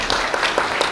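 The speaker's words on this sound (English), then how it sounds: "So let's give Dr. Yang a round of applause." Audience applause for a research center director at a foreign-policy lecture event, a brief steady wash of clapping heard alone and fairly loud.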